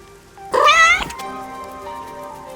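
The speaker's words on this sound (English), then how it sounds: "That's what the cat is saying." A cat meows once in the video game Rain Code, a loud, close, drawn-out wavering cry that fades into soft background music and ambience.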